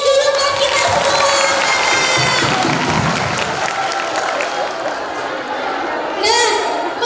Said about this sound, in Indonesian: Beri tepuk tangannya dulu buat kita semua.